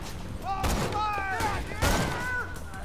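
Borderlands 2 gunfire cracks out in two heavy bursts amid electronic game tones, loud and close in the mix.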